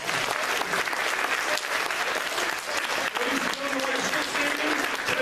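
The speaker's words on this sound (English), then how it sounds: "We give a round of applause to the Ottumwa High School Junior ROTC." A crowd at a school Veterans Day awards ceremony claps loudly and steadily for the Ottumwa High School Junior ROTC, dense continuous applause with faint voices mixed in.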